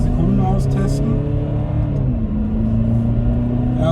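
A 2020 Alfa Romeo Stelvio Sprint with 190 PS accelerates uphill, its steady engine rumble rising in pitch as it pulls hard, heard from inside the cabin with a short click near the start.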